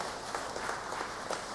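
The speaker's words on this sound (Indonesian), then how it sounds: "Tepuk tangan untuk semua umat Paroki Pulau Gebang." A church congregation at a Catholic Mass applauds, a soft, distant, even patter of clapping filling the space without voices.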